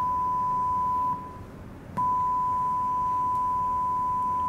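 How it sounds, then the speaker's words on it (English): A 1 kHz test tone from a battery-powered Class D audio amplifier chip plays through a speaker as a steady, continuous pure tone. It briefly drops in level and ends with a soft click before resuming. No one speaks. "this is a 1 kHz tone playing through the speaker"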